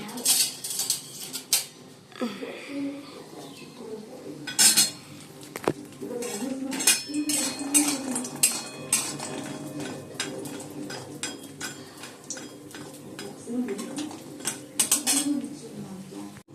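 A metal spatula clinks and scrapes repeatedly against a cooking pan while sun-dried lentil dumplings are fried for a Bengali shukto, sharp irregular knocks spread across the stretch with quieter handling sounds between them.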